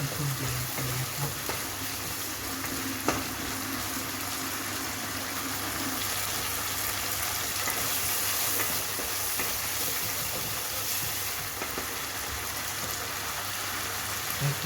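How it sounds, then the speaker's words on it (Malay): Marinated beef sizzles in hot oil for a homemade black pepper dish, a steady loud hiss of frying that carries on throughout, with a brief clink at the start. "Kita akan masak sehingga naik minyak, baru kita masukkan daging. Lalu kita masak biar betul dia kelihatan."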